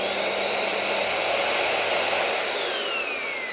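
A Hoover Performer bagged cylinder vacuum cleaner, an Australian model, whirs up to speed with a partial ramp rather than a soft start, its steady loud motor roar carrying a whine that rises in pitch, heard close and alone.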